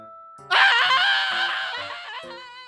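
An animated crow in a children's moral story screams in pain after a vase falls on it: a sudden loud, wavering cry that starts after a faint tone, holds strongly, then fades slightly toward the end.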